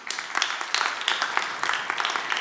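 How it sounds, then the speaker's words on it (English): Audience applause at a conference on data and the built environment: a short burst of many hands clapping in quick, uneven rhythm, moderately loud and steady throughout. "Please, applause."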